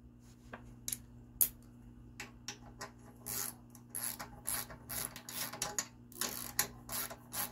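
A ratchet removing a 10 millimeter bolt while working on a vehicle, heard as faint irregular clicking and rasping strokes in quick bursts over a low steady hum, growing busier toward the end.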